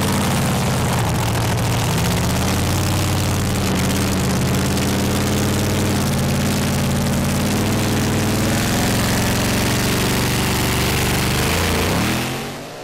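A two-wheel-drive pulling tractor in the 2.6-ton class roars at full throttle during a tractor pulling competition, a loud continuous heavy engine howl that holds steady before easing off at the end.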